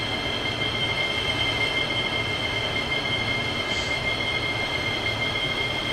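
Austrian OEBB 4023 electric train running on the Semmering railway in Train Simulator 2016, a steady loud rolling rumble with a high wheel whine held throughout, no talk.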